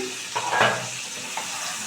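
Pumpkin and potato pieces frying in a pan give a soft, steady sizzle, with a few brief stirring scrapes partway through and no voices.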